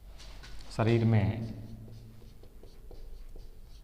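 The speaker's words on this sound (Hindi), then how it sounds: "सबसे पहले अपने यहाँ पर परिभाषा लिखेंगे" Pen or chalk writing out a definition, a faint scratchy tapping of short strokes continuing after a brief spoken phrase, quiet and close.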